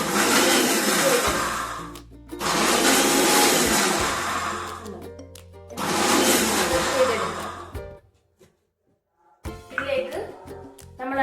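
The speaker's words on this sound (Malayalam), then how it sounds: "ഇത് നമുക്ക് മിക്സിയിൽ ജസ്റ്റ് വെച്ച് ആദ്യം" A kitchen mixer grinder whirs loudly in three separate bursts with short pauses between them, grinding a paste for yam theeyal, followed by brief clatter and soft voices.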